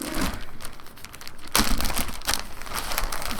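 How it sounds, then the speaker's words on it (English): Square craft envelopes handled up close, with crisp paper crinkling and rustling in continuous bursts and a couple of sharper crackles. "what you're gonna need to create the pages is some envelopes"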